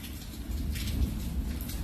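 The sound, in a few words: rain falling with thunder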